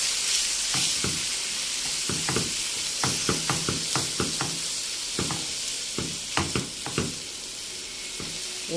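Onion goes into hot oil with rice and sizzles steadily, while scattered knocks and scrapes from stirring come through close up. No voices are heard.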